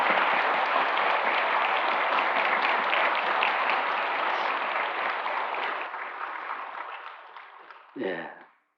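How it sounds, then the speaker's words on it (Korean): A church congregation applauds at a pastor's installation ceremony, a dense sustained round of clapping that gradually thins and fades out, ending with a brief voice. "크게 박수로 축하해 주시기 바랍니다."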